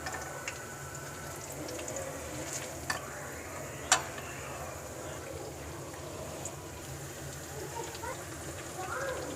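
Potato pakoras fry in oil over medium heat, a faint, steady sizzle heard close, broken by a few light clicks and stirring taps.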